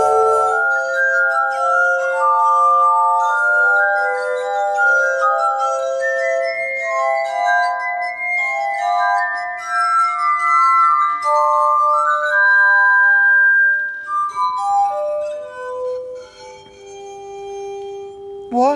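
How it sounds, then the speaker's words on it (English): A glass harmonica, the rotating-glass instrument invented by Benjamin Franklin, plays a slow, sustained melody of pure ringing tones that swell and overlap, loud and close, with no talking. "This is a glass harmonica."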